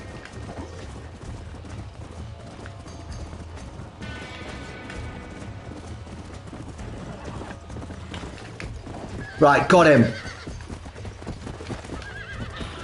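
Horses in the video game Red Dead Redemption, with steady hoof clatter and game ambience throughout and a sharp, loud neigh near the end, while a player speaks briefly.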